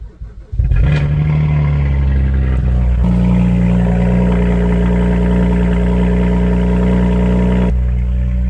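A BMW 335i engine cranks briefly, then fires up close and very loud, settling into a harsh, steady high idle and rising with a rev before dropping back, the droning roar sustained throughout.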